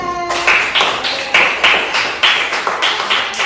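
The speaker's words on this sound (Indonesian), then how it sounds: "tepuk tangan untuk kelompok 2" A classroom group claps in a quick, even rhythm of about a dozen sharp beats, close and fairly loud, as applause for a group presentation on sustainable living.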